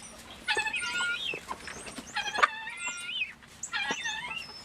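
Several chickens cluck and squawk in short bursts close by as they are fed, with a faint steady hum underneath.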